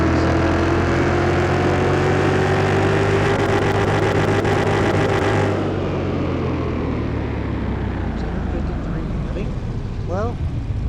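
A car engine in Car Mechanic Simulator 2021 runs with a steady droning hum and a tonal whine, then drops to a quieter, rougher idle about halfway through.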